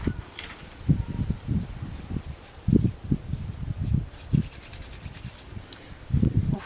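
Clawed fingers rubbing and scratching along a scalp and the back of the head during a self-massage, giving soft, close, dry scuffing strokes in an irregular rhythm with no talking.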